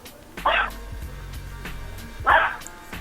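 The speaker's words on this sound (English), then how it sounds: "my dog is being crazy" A dog barks twice, loud and close by, with a pause between the two sharp yaps over a quiet indoor background.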